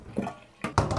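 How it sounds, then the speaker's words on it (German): Cooked potatoes drained in a kitchen, water splashing and pouring off in short bursts, getting louder toward the end, with no voices. "die Kartoffeln haben wir jetzt einmal abgegossen"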